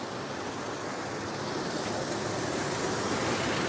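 Water churning steadily through the special-design impeller of a stand-alone hydro vortex system that adds air to the flow, a constant dense rushing noise with no breaks.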